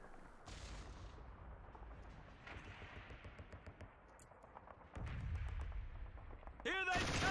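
A machine gun in Killzone HD fires in uneven bursts through the scene, with loud heavy gunfire toward the end and a voice talking over it.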